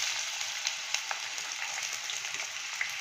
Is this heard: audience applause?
no